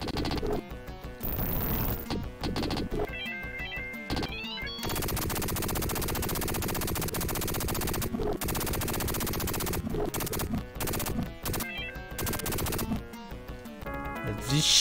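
Gunfire from the Mega Drive action game Dynamite Duke rattles in rapid bursts over busy game music and effects, loud and nearly continuous through the clip.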